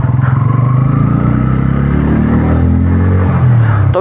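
A Bajaj Pulsar N160 motorcycle engine runs loud and close, holding a steady throbbing drone with a slight rise in revs near the end and a faint clatter.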